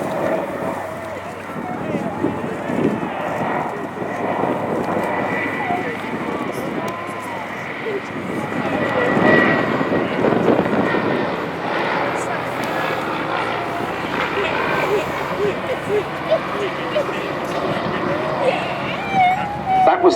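A PBY-5A Catalina flying past at the Shoreham airshow, its piston engines giving a sustained propeller drone that swells slightly in the middle, with a commentator talking over it.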